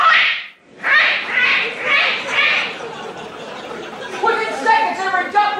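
A man imitates a duck's mating call, letting out a run of loud, nasal quacks in a steady rhythm, followed by a fluttering, chattering call with no other sound around it.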